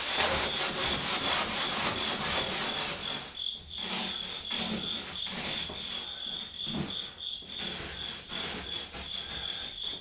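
A rag rubs hard over the wood of an old Hoosier cabinet in quick back-and-forth strokes, a close, scratchy swishing that keeps up a steady rhythm with no one speaking.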